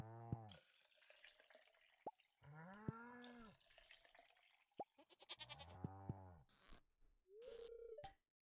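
A goat in the farming video game Stardew Valley bleats several times in quavering, wavering calls, mixed with dripping and small plinking game sounds, fairly quiet and close.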